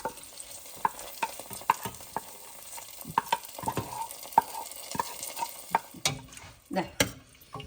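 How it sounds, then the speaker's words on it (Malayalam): Fried onions poured over curry leaves in a mutton curry give a faint sizzle, broken by scattered utensil clinks and stirring scrapes, close and fairly quiet, with no talking. "കറിവേപ്പിൻ്റെ ഇല ഇട്ടിട്ട് അതിൻ്റെ മുകളിലേക്ക് നമുക്ക് ഈ ഉള്ളി വറുത്തത് ഒഴിക്കാം"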